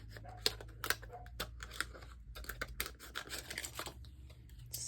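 Scissors snip paper scrapbooking pieces in spring-themed crafting, a series of quiet, close crisp cuts and rustles at an uneven pace with low room hum beneath.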